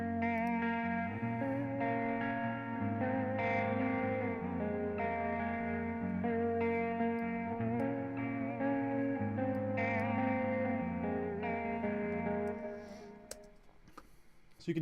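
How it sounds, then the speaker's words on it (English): A sustained guitar part played through a Tape Wobbler analog pitch emulation effect, its notes slowly wavering in pitch like worn cassette playback, steady and clear before fading out near the end. "So you can hear it kind of has this sound like it was recorded on old cassette."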